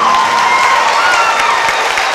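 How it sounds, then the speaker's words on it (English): Audience at a back-to-school pep rally bursting into loud, dense applause and cheering, a sustained wash of clapping filling the space from start to end. "a round of applause"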